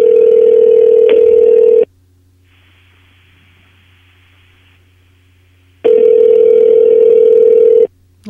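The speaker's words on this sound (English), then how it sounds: "that seems like an excessive amount of ringing" Outgoing telephone call ringing, loud and near, in two long rings separated by a silent gap of about four seconds, with a steady low hum underneath and no talk.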